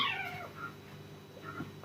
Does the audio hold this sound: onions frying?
no